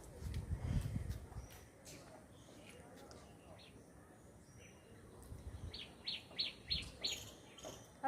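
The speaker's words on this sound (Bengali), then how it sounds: "আর পাখিগুলো কি সুন্দর ডাকছে" Birds chirp and call outdoors in the evening, short bright tweets scattered through the clip with a quick run of repeated chirps near the end, over faint background noise and a low thump at the start.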